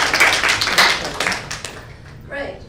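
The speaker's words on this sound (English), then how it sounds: "So another applause for John." Audience applause at a pitch talk, a burst of handclaps with dense sharp transients filling the first two seconds, then thinning and fading, with a voice briefly heard near the end.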